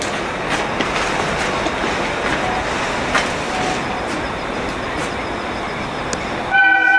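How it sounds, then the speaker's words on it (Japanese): A diesel locomotive train arriving at a station platform in Shin-Maebashi, Japan, with a steady loud rumble and rolling clatter that continues throughout, sharp high squeals and clicks above it, and a tonal horn-like sound at the very end. "2番線には、17時2分発 DL 群馬甲府高崎行き到着となります。"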